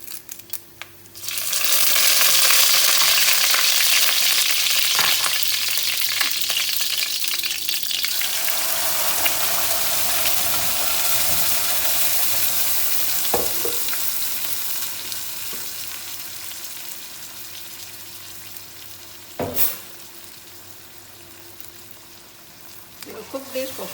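Star anise, cinnamon and curry leaves drop into hot oil in a pan for a chicken curry. A loud sizzle bursts up at once and then fades slowly to a softer crackle, with a few sharp clinks of a utensil.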